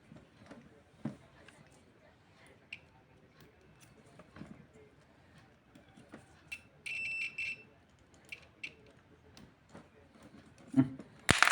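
A short electronic continuity tester buzzer beep sounds once, bright and steady for under a second, amid faint handling clicks and quiet surroundings.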